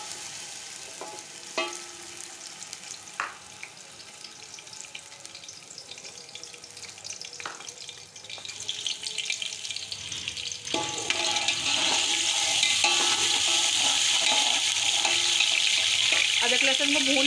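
Ginger garlic paste with cumin hits hot oil for chicken pulao, starting with faint clinks and stirring before a loud, steady sizzle builds up near the pan.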